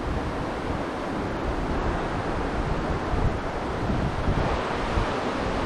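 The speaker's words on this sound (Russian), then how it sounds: "Вот такая настоящая горная река. Смотрите, она такая стремительная." A swift mountain river in the hills near Batumi in early May roars as a steady, loud, broadband rush of churning water that stays constant throughout, with no voices.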